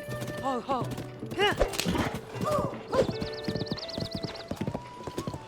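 A horse clip-clops along in The Legend of Zelda: Tears of the Kingdom, steady hoofbeats running beneath someone speaking over them, with a tonal whinny-like sound and game music tones weaving through.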